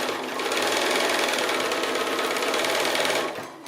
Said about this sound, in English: So I'll go ahead and I'll stitch these 2 opposite sides on first